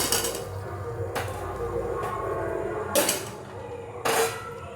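Potatoes for a vegetarian aloo dum are tipped into a pot and stirred, giving a few sharp metallic clanks of a spoon against the pan over a low cooking rumble, close and without speech.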